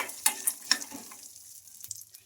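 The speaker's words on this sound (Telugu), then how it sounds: "ఇదే పప్పులో పల్లీలు అయితే వేసుకున్నాం కదా పల్లీలు కూడా బాగా ఫ్రై చేసుకోవాలి" Peanuts frying in a pan of lentils give a few sharp crackles and pops early on, then settle into a faint, steady sizzle up close.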